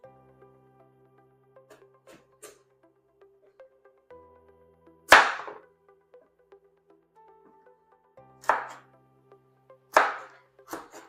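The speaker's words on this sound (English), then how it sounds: "you can also tell me like how better I can cut my carrots while still maintaining the shape" A knife chops carrots on a board in a few sharp, separate strikes, with long quiet pauses between them and faint clicks and kitchen noise in the background.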